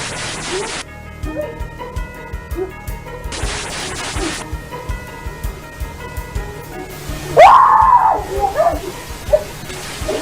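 A woman in a supermarket in China lets out a single loud, piercing scream partway through, after a stretch of quieter store ambience with scattered clatter and thumps.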